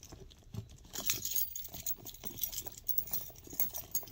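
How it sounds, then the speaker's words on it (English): Shop keys and car keys dropped into a bag, giving a run of light metallic jingles and rattles that rise and fall over a few seconds, close and moderately loud with no talking. "I'm going to put my shop keys and my car keys. And I'm just gonna throw that right down in there."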